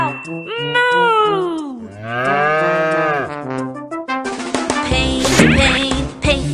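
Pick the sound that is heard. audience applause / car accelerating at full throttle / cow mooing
cow mooing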